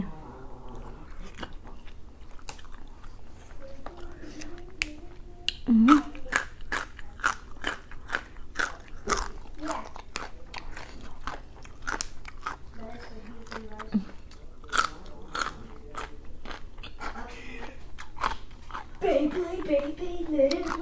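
Someone eats steamed herbal chicken with spicy chili paste, producing many sharp, close crunching and chewing bites at an irregular rhythm, with a voice and other speech breaking in at times.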